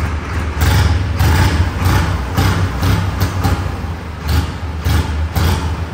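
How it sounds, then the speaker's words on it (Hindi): A loud, steady Massey Ferguson 8055 tractor engine rumbles close by, its low drone pulsing with occasional thuds and slight revving throughout. "आवाज देखो ट्रैक्टर की काफी शानदार है"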